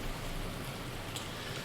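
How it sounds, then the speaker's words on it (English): Rain in the Farming Simulator 19 video game, a dense, continuous hiss with a low rumble beneath, steady and unbroken throughout the short stretch. "all we need to do is wait for it to stop raining"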